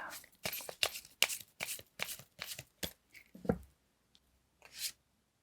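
Tarot cards are shuffled and handled at a reading table, a quick series of crisp riffling bursts followed by a few softer card slaps and slides, close and clear.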